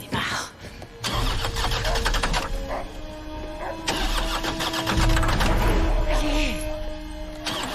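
A car engine cranks and tries to start in repeated bursts, the starter whining and the motor coughing up close and loud, with short pauses between attempts.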